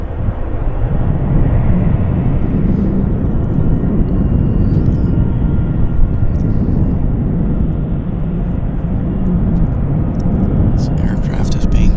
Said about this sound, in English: It's an A320 inbound from Vegas.